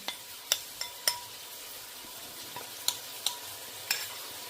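A spoon stirs a freshly ground paste of ginger, garlic and fresh turmeric frying in a pan for prawn biryani, with a soft steady sizzle punctuated by about nine sharp metallic scrapes and clinks.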